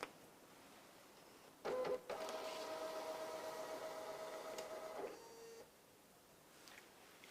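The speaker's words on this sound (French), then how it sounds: "Et puis, vous cliquez sur imprimer." A CENI electronic voting machine printing a ballot: a short mechanical whir and buzzing feed lasting a few seconds, fairly faint and close, in an otherwise quiet room.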